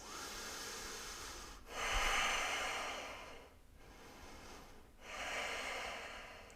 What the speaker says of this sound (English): 2 more breaths.